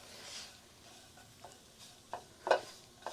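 Minced tomatoes going into a hot frying pan for roasted soya chunks, a soft, low-level sizzle with a few scattered clicks and stirring knocks toward the end.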